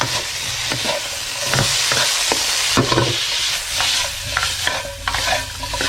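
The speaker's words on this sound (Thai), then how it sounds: "ผัดซ้ำนิดนึงครับ" A spatula scrapes and stirs a filling around a hot pan, with a steady loud sizzle of frying underneath the repeated close stirring strokes.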